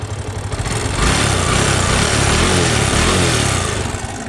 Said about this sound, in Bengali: আমরা এই বাইকটার এখন ট্যাপির টার্বিন চেন অ্যাডজাস্ট করে আপনাদেরকে সাউন্ড শোনাবো